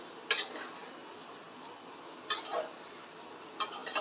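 Mangoes folded gently into Kashmiri pickle in a pot, heard as a few soft clinks and scrapes of a spoon against the metal at spaced intervals, close and fairly quiet.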